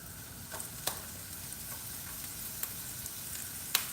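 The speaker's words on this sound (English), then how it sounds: "So we're starting with the onions. We're putting it in first." Onions frying in rendered homemade sausage fat in a pan, a soft, steady sizzle with scattered light pops and crackles, fairly quiet and with no voices.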